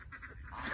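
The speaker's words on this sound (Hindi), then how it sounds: "पहले बतखियां आ गई हैं, फिर छोटी बतखियां आ गई हैं" Ducks and small ducklings in a backyard mini zoo give soft overlapping quacks and peeps, faint and close, with no talking.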